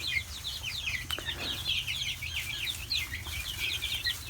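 Chickens and chicks in a brooder holding about 32 birds, with a steady stream of faint, high peeping and soft clucking that continues throughout at low level and close range.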